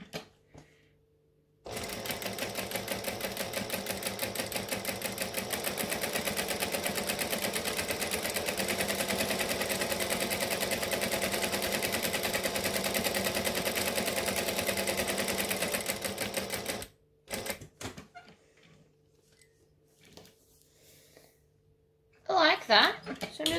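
A sewing machine runs steadily for about fifteen seconds stitching a fabric shoulder bag, a fast even whirring clatter, then stops and gives a few short bursts.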